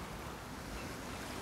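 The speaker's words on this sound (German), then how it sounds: "Das Meer ist immer was Besonderes, Michi, für mich auch." Sea surf washing in steadily, a continuous broadband wash of waves mixed with wind noise across the whole stretch, with no talk.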